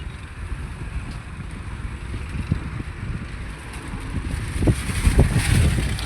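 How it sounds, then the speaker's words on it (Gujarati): Strong wind in Goa blows as a steady, loud rushing roar that swells toward the end, with no one speaking. "આ જો મિત્રો, તો તમને પવન અવાજ આવતો હોય મિત્રો."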